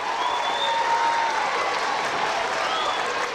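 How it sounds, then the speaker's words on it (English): An audience at a school D.A.R.E. graduation applauds a high school band, a dense, steady wash of clapping from a crowd that holds evenly for the whole stretch. "Let's give the Hummel High School band one final applause"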